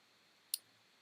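A single sharp computer mouse click, crisp and brief, standing alone against near silence.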